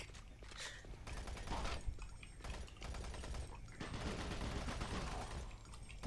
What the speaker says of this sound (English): I shoot his feet.